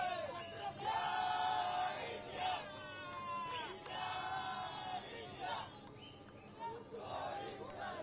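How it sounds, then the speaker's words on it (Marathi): A large crowd at Shivaji Park in Dadar, Mumbai, celebrating India's women's cricket World Cup win, roars and shouts in repeated surging waves of cheering and battle cries, loud and continuous with brief dips between outbursts. "सामना जिंकताच दादरच्या शिवाजी पार्क परिसरात मुंबईकरांकडून मोठा जल्लोष करण्यात आला।"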